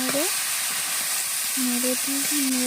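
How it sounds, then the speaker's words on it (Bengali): Snake gourd being stirred and fried with salt in a pan, a constant close hiss of sizzling oil, with a faint tonal hum running underneath. "নুন দেওয়ার পর চিচিঙ্গাটা দিয়ে দিলাম। চিচিঙ্গা দিয়ে ভালো করে নেড়ে"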